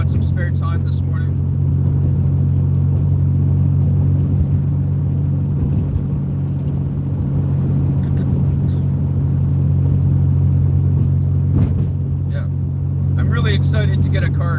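A big red van drives along a road, its engine giving a steady, continuous low rumble heard from inside the cab, with occasional faint clicks and rattles over the drone.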